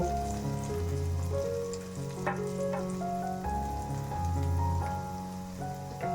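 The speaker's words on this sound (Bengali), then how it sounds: "এখন আলুটাকে হালকা হলুদ নুন দিয়ে একটু ভেজে নেব" Potatoes sizzle in hot oil with turmeric and salt, a continuous crackling fry with occasional sharper pops, heard close and alone over a faint background tone.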